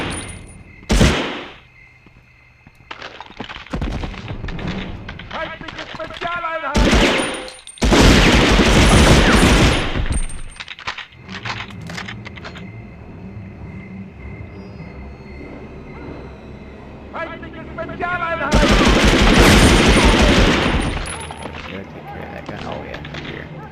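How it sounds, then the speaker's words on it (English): MP40 submachine gun fire in the PS1 shooter Medal of Honor: several loud bursts of rapid shots, with a brief crack early and longer volleys midway and near the end, over continuous in-game background noise. "you're gonna get to see some submachine gun bloating away"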